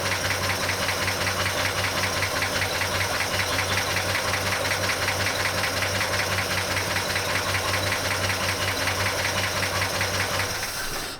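A 1941 Chevy engine idles rough and steady with a dead cylinder, giving a continuous loud knocking, uneven chug over a hiss, close by and alone throughout.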